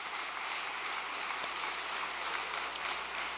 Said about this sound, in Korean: 허양 회장님께도 감사의 박수를 한번 부탁드리겠습니다.